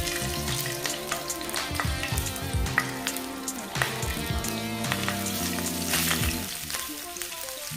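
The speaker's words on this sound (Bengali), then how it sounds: "এবার একে একে জিরে, শুকনো লঙ্কা ও তেজপাতা দিয়ে দেব" Cumin seeds, dried red chilies and bay leaf hit hot mustard oil in a frying pan for a Bengali rohu fish curry, a dense crackling sizzle with spattering pops and a few stirring scrapes, close and continuous.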